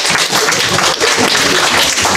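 Audience applause for a team's pitch at a weekend hackathon: a dense, steady wash of clapping that stays loud and even throughout, with no voices over it.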